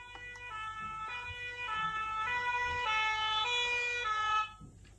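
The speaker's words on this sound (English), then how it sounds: "a fire engine?" A cartoon fire engine siren wails in a steady two-tone nee-naw pattern, clear and moderately loud for about four seconds before cutting off abruptly.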